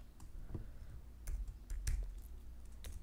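Typing on a computer keyboard while writing code, heard as irregular clicks and key taps with a few louder thumps, close and fairly quiet, with no speech.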